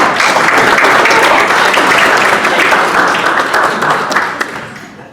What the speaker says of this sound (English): All right, round of applause, y'all.